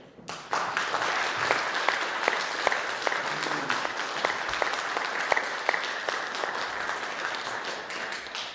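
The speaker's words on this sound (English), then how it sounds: "Please stand up for big applause." Audience applause fills a conference hall at a CUNY crowdfunding and ICO event, sustained steady clapping from a sizable crowd that swells in and continues without a break.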